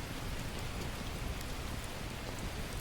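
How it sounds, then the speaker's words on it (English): Heavy rain falling in the survival game The Last Plague: Blight, a steady, even downpour hiss with scattered drop patter and no talk. "it's raining hard"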